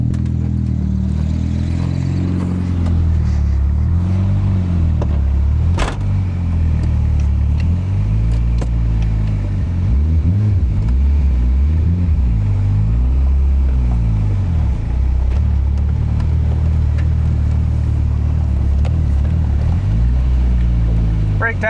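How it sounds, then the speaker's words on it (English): A turbo Nissan 240SX that has sat for years drives around a parking lot. Its engine rumbles close and loud, and the revs rise and fall with shifting pitch. There is a sharp clack near six seconds. "I'm gonna drop the hood and just like drive it around the parking lot."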